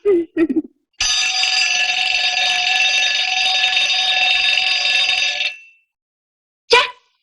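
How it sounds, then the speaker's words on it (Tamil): A loud, continuous electronic alarm clock rings steadily for several seconds, then stops; brief faint sounds come before and after. "நான் தான் அலாரம் வச்சேன்"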